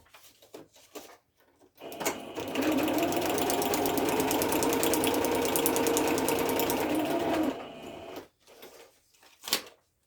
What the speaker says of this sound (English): now I will stitch it through with sewing machine